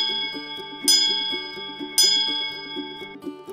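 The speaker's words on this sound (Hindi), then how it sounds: "जबकि छोटी घंटी से ज्यादा एनर्जी वाली साउंड वेव्स बनती हैं।" A small bell gives two bright, sharp strikes about a second apart, each ringing out briefly over a repeating low tonal pattern.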